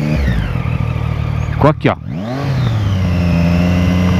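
Suzuki Hayabusa motorcycle engine held at about 4000 rpm, a close, steady, buzzy drone that dips and surges back briefly midway before settling into an even roar, with someone talking over it.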